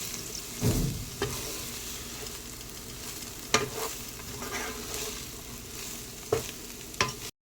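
Egg fried rice with soy sauce sizzling in a pan over low heat as a spatula stirs it, soft continuous frying hiss broken by several sharp scrapes and knocks against the pan, close up and without speech.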